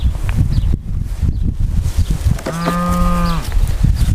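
A cow moos once, a drawn-out tonal low lasting about a second, heard close by over gusty wind and rustling on a farm outdoors.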